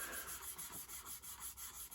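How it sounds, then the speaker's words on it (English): Sandpaper rubs a thin plastic part for a 1967 Plymouth GTX scale model kit in quick, rhythmic back-and-forth strokes, quiet and close, with no voices. "I'm going to sand that down a little more."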